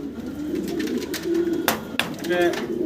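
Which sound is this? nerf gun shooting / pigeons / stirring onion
pigeons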